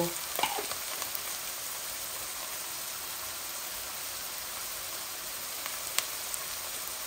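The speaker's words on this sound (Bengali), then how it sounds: "এখন আমি চিকেনগুলা ঢেলে দিব" Chicken pieces frying in a hot pan, a dense steady sizzle heard close with a few clinks and scrapes near the start and one sharp tap later.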